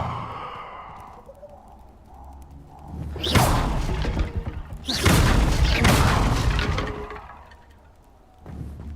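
The Incendio fire spell cast in a video game, heard as two loud, roaring whooshes with heavy booming bursts a couple of seconds apart, fading between them over quiet ambience.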